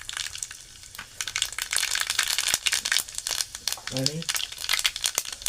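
Cumin and mustard seeds dropped into hot oil for a cabbage dish, crackling and popping in a dense sizzle that starts after a quieter moment, with someone talking over it.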